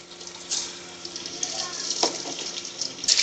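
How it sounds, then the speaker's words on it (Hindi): Fish pieces frying in hot oil for a fish curry, a steady broad hiss and sizzle running throughout at moderate loudness, with a few louder crackling bursts near the end. "अब इसमें हम मछली को तलेंगे। पहले तेल में बिस्मिल्लाहिर्रहमानिर्रहीम मछली को तल के हम निकाल लेंगे।"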